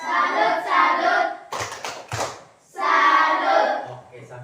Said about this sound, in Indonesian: Berarti tepuk salut. Salut, salut. Salut, salut.